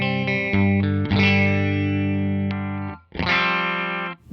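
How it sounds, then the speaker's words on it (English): Electric guitar played through a Wampler Brent Mason ReWired overdrive pedal into an old Fender Princeton amp, ringing distorted chords and notes with long sustain, a brief gap near the end before a fresh strummed chord. "Now listen how the ReWired just lifts it into that beautiful overdrive section."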